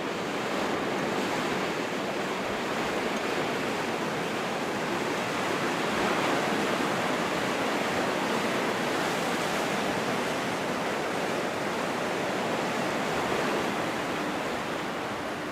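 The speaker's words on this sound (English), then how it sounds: "sit by the ocean and listen to the sounds of the surf and the lighthouses" Ocean surf at Brier Island, Nova Scotia, a continuous full roar of breaking waves and wash with steady wind, loud and unbroken, no voices.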